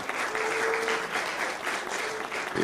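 A room of guests at a Georgia AAPI awards gala claps steadily for a congresswoman, dense continuous applause throughout with a brief louder burst at the close.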